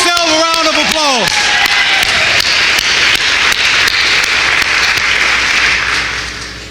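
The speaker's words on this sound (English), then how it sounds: "Give yourself a round of applause." A convention audience in Washington, D.C. bursts into sustained applause and clapping, loud and dense throughout, swelling right after a voice finishes speaking and fading slightly at the end.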